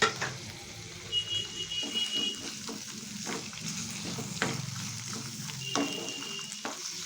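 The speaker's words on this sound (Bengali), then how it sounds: "কিছুক্ষণ ভেজে নেওয়ার পর এর মধ্যে দিয়ে দিচ্ছি পটলের খোসাগুলো" Washed, drained pointed gourd peels frying in hot oil, a steady sizzle with intermittent stirring clinks and scrapes, plus a couple of brief high electronic beeps in the background.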